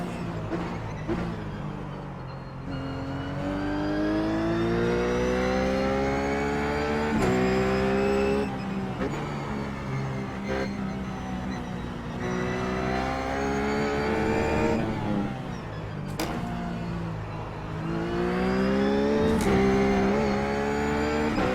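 A Ruf GT3 race car's engine screams through the gears at Sonoma in iRacing, steady loud howling with repeated upshifts, throttle lifts and downshift blips, heard close from the cockpit with no talking.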